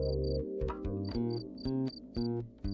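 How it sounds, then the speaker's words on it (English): A field cricket chirps in short, regular high-pitched bursts, repeated steadily over a low, tonal background. "this creature, hiding at the bottom of his hole, is a field cricket"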